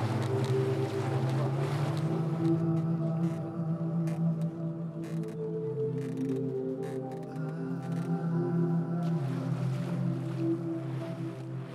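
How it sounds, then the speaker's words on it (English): An umiak boat's engine drones steadily with layered low hum while wind buffets the microphone on open sea around Diomede island, Alaska. "As we traveled around the island in one of Aja's Umiaks"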